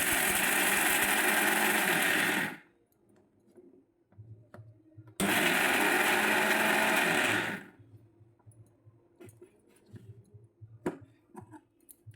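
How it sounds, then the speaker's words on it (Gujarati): A kitchen mixer grinder crushes raw peanuts in two loud, steady whirring bursts of about two and a half seconds each, separated by a quiet gap with faint clicks and rattles, then soft handling noises after. "આપણે સિંગદાણાને મિક્સરમાં ક્રશ કરી લેવાના છે"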